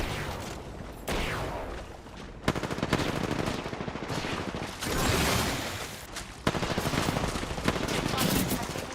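Sustained automatic gunfire fills a shooter video game match, with rapid continuous bursts broken by brief pauses and sharp single shots, loud and close throughout, with faint voices mixed underneath.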